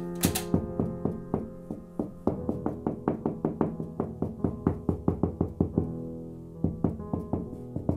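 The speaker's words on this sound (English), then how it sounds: "It sounds like we're hollow all the way around there" Repeated knocks on a ceiling to test whether it is hollow, ahead of mounting a projector: a steady run of sharp, close raps with short gaps and brief pauses, heard alone without any talk.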